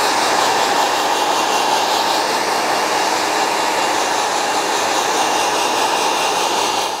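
A hair dryer blows steadily on a freshly cut, wet pixie haircut in a salon, a loud continuous whooshing hiss with no talk over it.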